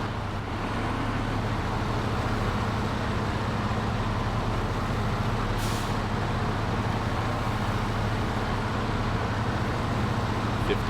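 A diesel truck in the SnowRunner video game runs with a steady, loud engine and exhaust drone that holds without a break throughout, with no voices.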